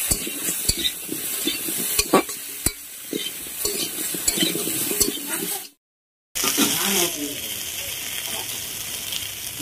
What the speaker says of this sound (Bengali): পাঁচ ফোড়ন দিচ্ছি।